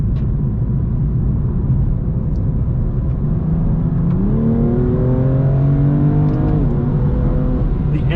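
A 2020 BMW M2 CS with its S55 engine revs hard, the pitch climbing through several rising sweeps with shifts between them, loud and steady across the whole stretch with no talking.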